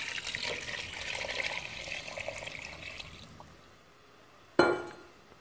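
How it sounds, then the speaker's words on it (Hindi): Water poured steadily into a pot of beef paye for about three seconds, a continuous splashing rush that fades, then a sharp clattering knock near the end. "तो अब हम इसमें 2 लीटर जो है पानी डाल देंगे।"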